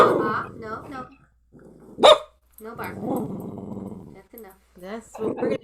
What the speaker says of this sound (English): No bark. That's enough.